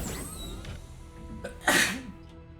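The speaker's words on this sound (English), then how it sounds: "Man, been sneezing a lot lately." A single sharp, loud sneeze bursts out close to the microphone, following a brief sniff over a low steady hum from Tales of Arise gameplay.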